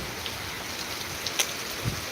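Rain falls in a soft, constant hiss with occasional distinct drops striking nearby, fairly quiet and uninterrupted.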